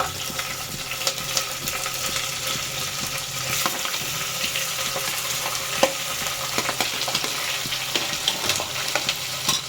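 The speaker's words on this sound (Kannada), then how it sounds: "ಫ್ರೈ ಆದಮೇಲೆ ಫಸ್ಟು ಇವಾಗ ಈರುಳ್ಳಿ ಹಾಕ್ತೀನಿ, ಕರಿಬೇವು, ಇಲ್ಲಿ ಸುಲಿದಿಟ್ಕೊಂಡಿರ್ತೀನಲ್ಲ ಬೆಳ್ಳುಳ್ಳಿ, ಈರುಳ್ಳಿ" Onion, curry leaves and garlic frying in oil for a village-style chicken biryani, a steady close sizzle with scattered stirring clinks and scrapes throughout, no talking.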